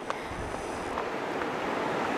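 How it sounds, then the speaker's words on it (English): Outdoor water and wind on the Orange River during a canoeing trip, heard as a steady rushing wash with buffeting wind noise on the microphone throughout, no voices. "This is the Orange River."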